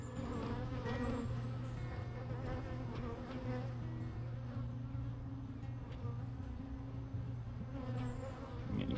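Dense, agitated buzzing of many angry honeybees swarming close by at a hive, a constant high-pitched drone that rises and falls slightly without pause.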